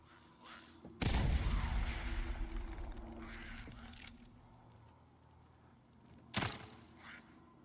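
A bomb in the horror video game The Evil Within 2 detonates with a sudden loud, booming blast that rumbles and fades over a few seconds, followed later by a second sharp, shorter bang.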